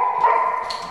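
A dog gives one sharp, close bark that trails into a higher yelp, loud and alone, after commands to speak.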